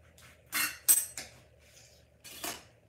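A knife cuts a lemon in half in a kitchen, giving a few sharp, close clicks and taps against a board, separated by short silences.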